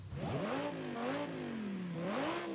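A 5.2-litre V10 engine, like the Lamborghini Huracan's, revs in Forza Horizon 5 on a 1966 Aston Martin DB7 Zagato. The loud, close engine tone rises, dips and climbs again in smooth sweeps, with no talking.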